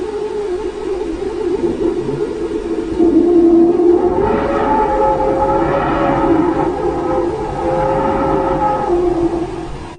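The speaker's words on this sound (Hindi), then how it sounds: "यह सूरज की दूसरी आवाज भी इसी वजह से पैदा होती है" Eerie wavering tones rise and fall in pitch like a distant siren or whale song, steady and continuous over a low background hum: the Sun's radio emissions from plasma waves, converted to sound.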